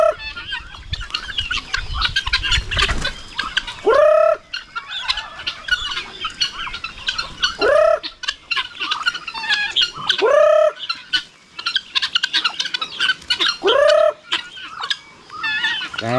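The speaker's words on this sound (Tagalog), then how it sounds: "Malaki na yung mga manok natin, oh." Chickens and guinea fowl squawk and cluck loudly nearby in a farmyard, with repeated sharp rising calls recurring every few seconds over a busy background of clucking.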